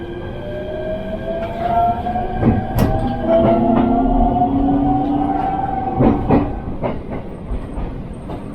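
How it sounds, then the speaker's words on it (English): A one-man operated JR East rapid train bound for Matsumoto, Japan, rolls along the rails with rhythmic clacking over track joints and a high metallic squeal, loud and close, with no voices. "This is a one-man operated train."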